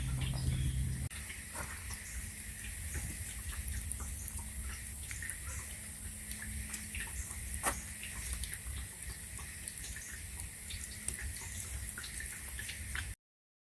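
Steady broadband rush of tap water running into a sink while freshly harvested garden thyme is rinsed, continuous and close with faint drips and clinks, no talking.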